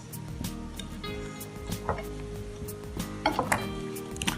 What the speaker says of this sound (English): now we're gonna mix the egg with our previous mix